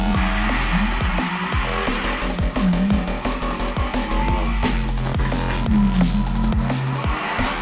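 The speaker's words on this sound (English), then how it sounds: "Hear that oversteer right on the throttle right there." Race car engine in Forza Motorsport 7 on stock tires revving steadily with repeated tire squeals as the car oversteers and slides, loud and continuous, with no talking.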